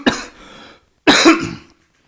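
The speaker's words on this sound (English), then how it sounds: "Morning coffee cough." Two separate coughs from one person, each a sharp close burst trailing off rasply, with a short silent gap between them and no talk.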